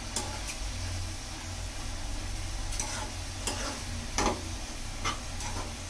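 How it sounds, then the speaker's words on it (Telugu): A spiced mushroom curry is stirred in a pan over a steady sizzle, with soft scraping and a few sharp clicks of the spoon against the pan. "అన్ని మసాలాలు వేసుకున్న తర్వాత ఇలా మిక్స్ చేసుకోవాలి."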